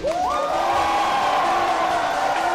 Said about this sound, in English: let's hear some noise if you want to win this PC